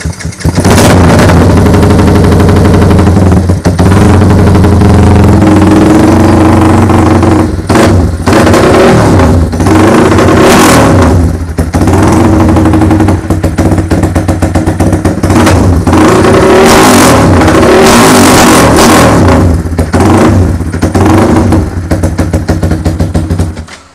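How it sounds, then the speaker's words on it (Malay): A Kriss 110 motorcycle with loud CJ Ipoh exhaust revs up repeatedly, throttle blips rising and falling over a steady idle rumble, close and continuous. "itulah bunyi exhaust daripada CJ Ipoh"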